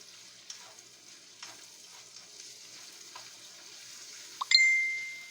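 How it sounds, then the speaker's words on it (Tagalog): Faint, steady sizzling of sausage frying in a pan, with a few soft clinks, then a bright metallic ding that rings out near the end. "Prito muna po natin yung ating sausage."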